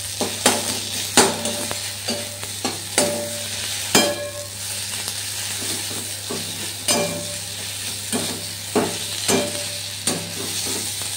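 Garlic paste and spices frying in oil left over from frying eggs, with a steady sizzle broken by repeated sharp scrapes and clinks of a spatula stirring against the pan, close and fairly loud.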